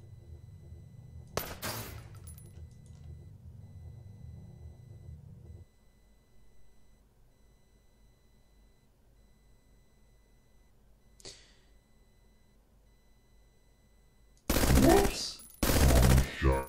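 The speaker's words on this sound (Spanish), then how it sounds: "Están disparando entre ellos" Mechs in the Bionic Dues video game exchange gunfire: a sharp burst early, one brief shot later, then two loud, rapid automatic volleys close together at the end, with quiet gaps between.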